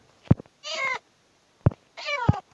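A cat in Minecraft Pocket Edition meows twice, each short call preceded by a sharp thump, clear and close against near silence.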